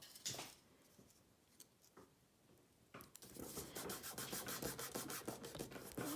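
Paper rubbed by hand on its back to transfer a simple print, a soft scratchy rubbing that starts after a quiet first half and goes on as a steady run of quick, close strokes.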